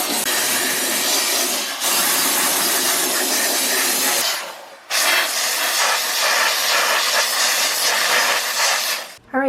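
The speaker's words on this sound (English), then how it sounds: "after I did the little steam cleaner" A small handheld steam cleaner hisses in long, loud continuous bursts while cleaning a gunky dishwasher, with a brief pause near the middle and another cutoff at the end.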